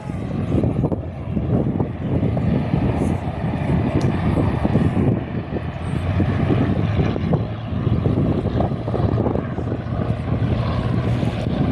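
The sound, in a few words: Cessna 404 Titan aircraft taxiing out for takeoff, windy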